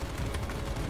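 Dense suppressive gunfire rattles continuously in a Call of Duty Cold War firefight, rapid overlapping shots blurring into a loud, rough wall of noise with no pauses and no voices.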